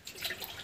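Water splashes onto vegetable plants in a home garden, a brief, soft, uneven pouring and spattering sound with no talking.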